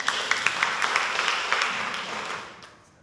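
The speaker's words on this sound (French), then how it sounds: "Si vous aimez danser, applaudissez bien fort pour vous" Live audience at a dance competition stage show clapping loudly for itself, a dense wash of many hands with a few sharper claps standing out, fading away toward the end.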